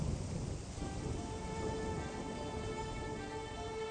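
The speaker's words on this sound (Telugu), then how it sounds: "ఒరే ఒరే, వర్షంలో ఏంట్రా? లోపలికి రా." Steady, fairly quiet rain falls throughout as a dense, even hiss with no voices, with faint low rumbling that could be distant thunder.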